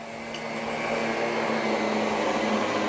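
A Miele Guard L1 Electro vacuum with its power head deep-cleans carpet on a low suction setting, giving a continuous, even roar that swells slightly at the start and holds close by.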